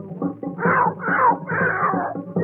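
A singer's voice imitates a cat in a song, with a series of short, wavering, whining meow-like cries over a low musical backing.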